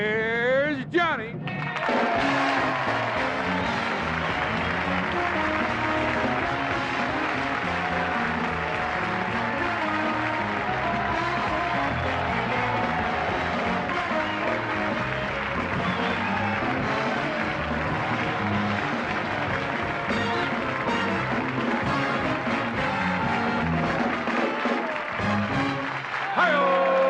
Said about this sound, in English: I know that your applause is really a mandate